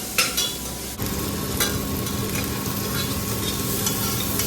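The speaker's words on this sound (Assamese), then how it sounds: "পিঁয়াজখিনি 2 মিনিটমান ভাজিম" Onions and narasingha (curry) leaves fry in a pan with a loud, steady sizzle, while a utensil scrapes and stirs them throughout; one sharp knock comes near the start.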